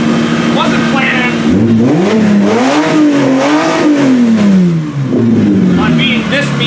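Toyota car engine revved hard while being run to destruction in a shop, a loud droning rev that climbs and falls in pitch over several seconds, with someone talking over it.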